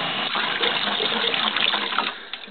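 Cold water runs steadily from the sink faucet in a food trailer, a continuous close splashing rush with small flickers in the flow throughout.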